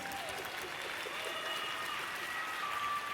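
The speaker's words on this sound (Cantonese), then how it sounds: "俾啲掌聲佢哋！" An audience claps after a suona duet with band, a steady wash of applause that holds evenly throughout, with faint voices and a thin whistling tone riding above.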